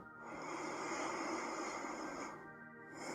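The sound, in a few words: long deep breaths during yoga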